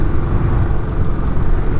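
A Royal Enfield Classic 500 single-cylinder motorcycle engine thumps steadily at close range, a loud, continuous low rumble with an even pulsing beat and no voices.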